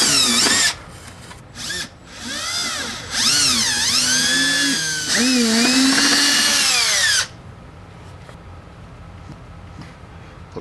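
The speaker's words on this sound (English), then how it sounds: "I've got a long drill." A power drill with a long bit whines loudly, its pitch rising and falling in several long bursts as it bores through wood framing, then stops, leaving quiet room noise.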